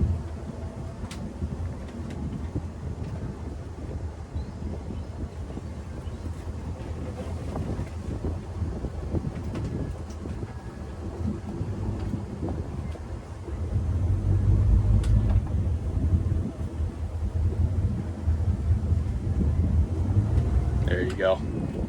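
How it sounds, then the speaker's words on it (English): Wind gusting around a twin screw boat during docking, a steady rushing roar that swells louder partway through, with a voice speaking over it. "Looks like the wind's calming down a bit too."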